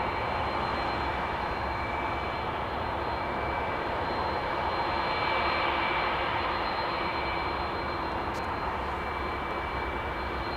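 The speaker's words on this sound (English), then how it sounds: "Oh, hear that. Hear the engine spool up." A jet engine spools up at Los Angeles International Airport, a steady broad roar with a faint rising whine, heard from a distance against constant airport background noise.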